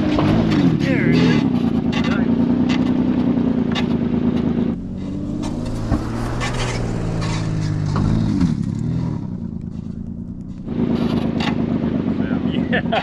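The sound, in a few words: limousine engine running and driving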